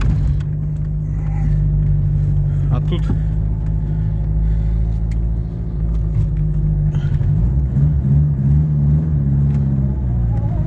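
Car engine running while driving on a muddy road after rain on winter tyres, a steady low rumble with occasional revving swells and faint knocks, close and continuous under a man's speech.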